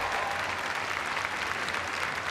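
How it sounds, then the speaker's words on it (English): Steady applause fills the room from a political rally crowd gathered for a Democratic National Committee event, dense clapping continuing evenly throughout without a break. "Give yourselves a big round of applause."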